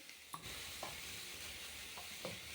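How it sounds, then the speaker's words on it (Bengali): Bengali masala paste fries in a little oil in a pan, with tomato and pre-fried vegetables. A soft, steady sizzle holds under a few light spatula taps and scrapes. No voices. "মশলাটা কষিয়ে নিই"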